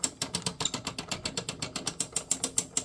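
Sausage stuffer being cranked down with a small horn and 32–38 mm hog casings, a quick, even series of ratcheting mechanical clicks, close and fairly quiet.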